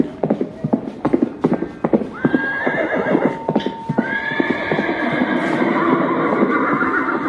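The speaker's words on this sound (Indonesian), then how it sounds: "Lalu Prabu pergi menaiki kuda kesayangannya." A horse clip-clops at a steady walking rhythm as the king rides away in a school drama about Telaga Warna, with a clear whinny partway through, the hoofbeats close and loud at first, then blurring into a continuous rumble.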